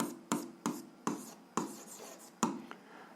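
An algebra equation being written by hand, probably with a pen or marker: several short, close strokes in quick succession with brief pauses between them, faint, with no voice.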